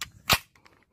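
A Hi-Point .45 handgun fires once: a single sharp, brief crack at close range, fading quickly into quiet.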